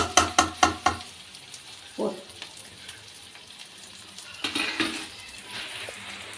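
Chopped tomatoes go into a hot pan for Tamil-style tomato thokku. A few quick metallic clinks come first, then a soft splash and a steady sizzle as the mixture fries. Scraping stirs return later, close by and moderately loud.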